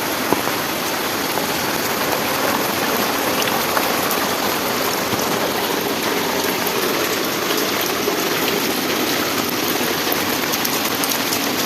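Heavy rain falls steadily on a walk under an umbrella, a dense, even hiss of drops with no pauses and no talking.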